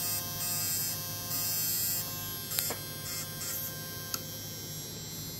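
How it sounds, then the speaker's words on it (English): A small electric motor driven from a boosted ringer circuit spins with a steady, high-pitched electric buzz and hum, close and continuous, with a few brief clicks. "See, it's spinning away."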